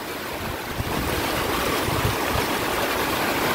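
Rushing floodwater of a swollen river in Caligayan, Tumauini, Isabela, a loud, continuous roaring wash with gusty low turbulence and wind buffeting the microphone, with no talking.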